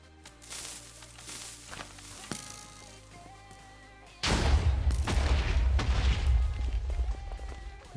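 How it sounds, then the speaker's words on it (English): TNT cannon blasts in a Minecraft Race For Wool match, a scatter of sharp game-sound pops and clicks followed by a sudden loud, sustained rumbling burst of explosions that fills the second half. "Nice cannon taking out a lot of iron here by Matsuzan."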